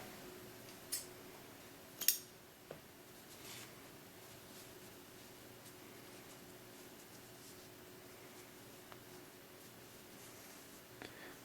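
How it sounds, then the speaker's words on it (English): Scissors cutting yarn during crochet work: a few faint, sharp snips close together early on, then quiet room tone with occasional tiny clicks. "I'll chain 1 and I'll cut this yarn."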